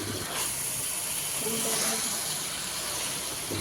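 Marinated duck meat dropped into hot frying spice paste gives a steady, continuous sizzling hiss that stays loud and even throughout.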